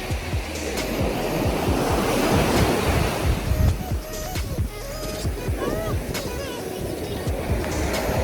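Ocean surf at Myrtle Beach, South Carolina, on a mild February day: steady, loud waves wash and roll continuously onto the shore, with wind buffeting the microphone throughout.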